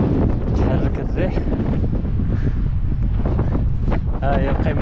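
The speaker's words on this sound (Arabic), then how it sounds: "تحرك الريح." Strong wind buffets the microphone on a mountain hike, a continuous loud roar and rumble with no let-up throughout.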